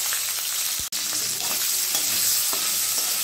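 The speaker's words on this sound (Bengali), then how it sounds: "কেটে রাখা ক্যাপসিকামগুলো ভেজে নেব" Chopped capsicum fries in hot oil left over from frying potatoes, a dense, continuous sizzle heard up close, with a few light stirring knocks and one brief dropout.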